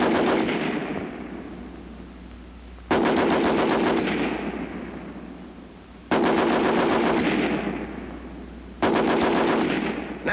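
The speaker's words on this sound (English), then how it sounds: "First, the American Light 30 on the bipod." An American Light 30 machine gun fires from its bipod in long sustained automatic bursts, each loud run of rapid reports starting abruptly and tailing off, close and powerful.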